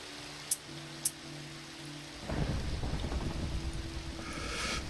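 Steady rain in the video game TekWarfare, starting abruptly partway through as a continuous hiss and patter after two faint clicks over a low hum, moderately loud and without speech.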